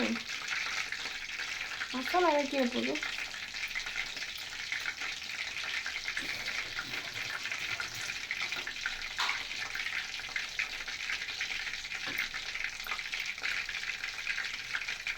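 Prawns fry in masala for a crispy prawn fry (eral varuval), a steady, close, hissing sizzle that runs throughout, with occasional clinks and a brief whistling squeak near the start.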